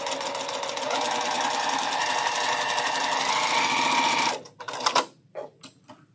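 A sewing machine piecing quilt blocks runs in a steady, loud, continuous mechanical whir for about four seconds, then stops abruptly, followed by a few short clicks and bursts.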